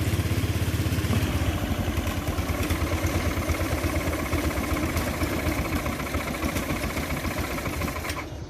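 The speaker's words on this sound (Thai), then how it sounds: "ฟังเสียงเครื่องยนต์นะครับ" A Honda Click 125i motorcycle engine idles close by with a steady, uneven chugging rumble and slight clatter, running continuously without voices.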